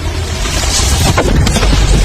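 A deep, sustained roar and rumble from an asteroid impact explosion, loud and dense throughout, with a few sharper bursts in the middle and no speech.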